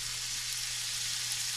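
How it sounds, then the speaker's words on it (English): Onions sizzle steadily in a frying pan for breakfast burritos, a close, even hiss of frying with no voices. "I'm actually going to make these breakfast burritos in the frying pan"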